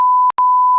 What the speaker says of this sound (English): we will bleep that